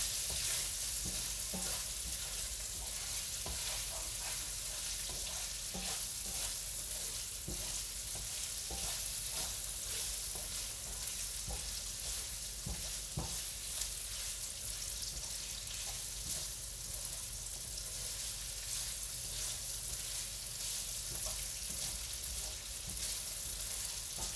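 A pan being deglazed with galangal and shallots sizzles steadily and loudly for a long stretch, with scattered crackles and scraping spoon taps over the constant hiss.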